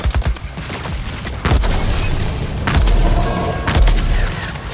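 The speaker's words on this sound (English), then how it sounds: "Someone like Deadshot can take a vantage point, can provide cover fire." Gunfire from the video game Suicide Squad: Kill the Justice League as Deadshot lays down cover fire, a continuous loud barrage of rapid shots punctuated by heavier booming impacts throughout.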